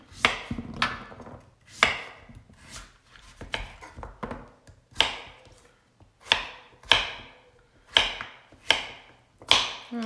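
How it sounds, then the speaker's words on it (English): Fresh squash chopped into chunks with a knife on a cutting board, a steady series of about a dozen sharp, close knocks at a brisk, slightly uneven pace, with no talking. "I'm just going to chop it up."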